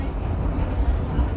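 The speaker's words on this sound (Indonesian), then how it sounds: "Berpapasan kesilang dengan kereta api BBM Pertamina dari stasiun" A Pertamina fuel freight train passing close by near Gedangan station, heard from aboard an executive-class passenger train as a loud, steady low rumble and roar of rolling wagons.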